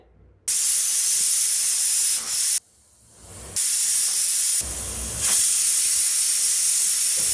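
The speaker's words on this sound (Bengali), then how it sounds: "প্রেসার কুকারে 3টা সিটি নিয়ে নিয়েছি।" Pressure cooker on medium heat cooking beef curry, venting steam in loud sustained hisses that stop and restart several times, with brief quiet gaps between bursts.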